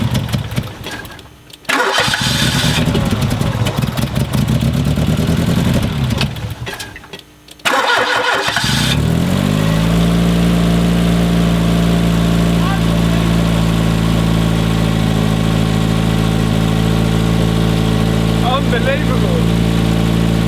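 A donor 505 engine cranks in two long bursts, catches near the eight-second mark and settles into a steady, loud cold idle that runs on alone to the end.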